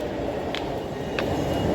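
A train rumbles steadily at the Andheri station platform in Mumbai, a constant loud low roar of rail noise with two faint brief clicks over it and no voices.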